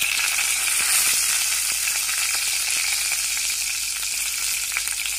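Curry leaves and green chilies fry in hot oil in a pan, giving a steady, bright sizzle with small crackles and pops, fairly soft and close.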